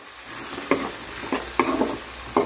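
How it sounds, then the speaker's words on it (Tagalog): Celery sizzles in a hot pan alongside beans for squid chopsuey, a steady close fry punctuated by four or five sharp stirring scrapes at irregular intervals, with no talking. "Gisa lang natin yung celery konti para lumabas yung flavor ng celery"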